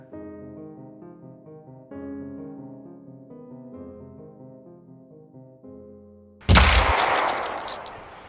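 Shotgun blast in a dark narrated story, one loud, sudden boom that cuts in after several seconds of low, sustained somber music and rings out over the end.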